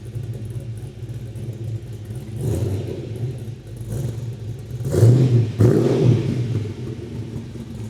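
A 6-litre HSV V8, stroked from 5.7 litres, idles with a deep, lumpy rumble and a couple of throaty swells partway through, close and loud, with no voices.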